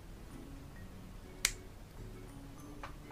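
A single sharp snip of scissors cutting a pair of Ardell magnetic false eyelashes in half, one brief close click against a quiet room.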